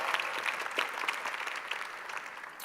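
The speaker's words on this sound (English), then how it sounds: "Let's give a little round of applause for that little battle." A startup pitch-competition audience at a summit claps after a pitch battle, moderate crowd applause with a few distinct nearby claps, fairly soft overall and fading slightly toward the close.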